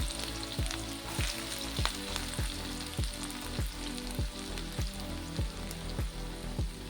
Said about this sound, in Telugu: ఉల్లిపాయ బాగా ఎర్రగా వచ్చేంత వరకు ఫ్రై చేసుకుంటే బాగుంటుంది అన్నమాట